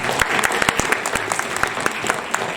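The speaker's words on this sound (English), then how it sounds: "give them a big round of applause" A close, loud round of applause from an audience at a book publishing event, dense rapid clapping with distinct individual hand claps, steady throughout the short burst.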